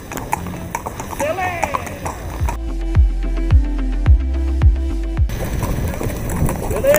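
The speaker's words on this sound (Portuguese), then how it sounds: "E claro, andar a cavalo" Horse hooves clip-clop in a steady, loud rhythm of heavy thuds during horseback riding at Parque Maeda in Itu, Brazil, framed by excited voices and background bustle before and after.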